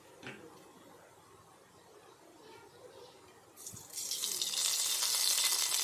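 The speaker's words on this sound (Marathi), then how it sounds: "आता गॅसवर पातीलं ठेवलेलं आहे आणि त्यामध्ये मी आता तेल घालणार आहे" Cooking oil pours into a pot set on a gas stove, a soft trickle that swells after a few seconds into a loud, steady rushing hiss, with no voices over it.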